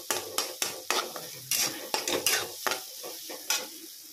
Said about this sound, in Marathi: त्यामुळे आता हे थोडंसं भाजू द्यायचं।